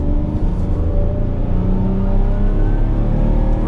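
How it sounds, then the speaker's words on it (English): A 2016 Chevrolet Silverado's engine revs steadily while towing a trailer, a loud continuous rumble with a slowly rising tone heard close up from inside the cab, with no talking. "We're revving out pretty good"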